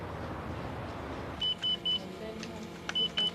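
Intermittent electronic beeps from a van alarm, short tones in pairs and clusters sounding out over a steady background rumble, moderately loud.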